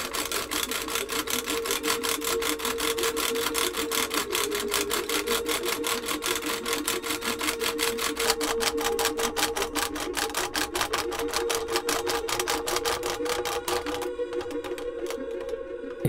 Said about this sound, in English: use a bow and it revolves inside a little template to cut out the shield